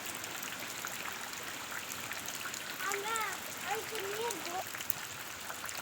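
Soft, steady hiss of rain falling outside fills the background at low volume while a person talks quietly partway through.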